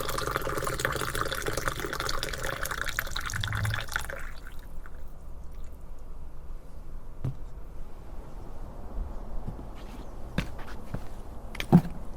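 Freshly plunged coffee is poured into a mug during a break with a 1950s portable gas cooker, giving a soft liquid trickle and splash for the first few seconds, followed by quiet with a few faint drips and small clinks.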